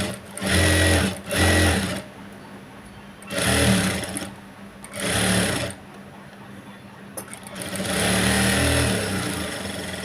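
Domestic sewing machine with a normal presser foot stitching thread piping onto a boat neckline in boutique-style tailoring, running in several loud bursts of rapid stitching separated by short pauses, the longest run at the end.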